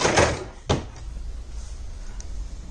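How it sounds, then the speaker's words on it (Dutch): A polar-white storage drawer on a Nolte Concept Me 200 x 200 cm bed frame slides open with a brief rumble, followed by a sharp wooden knock as it stops, then faint room noise. "De lade is er volledig uit te trekken"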